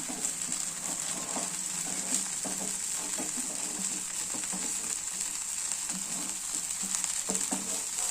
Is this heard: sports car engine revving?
no